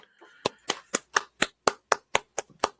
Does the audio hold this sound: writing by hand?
no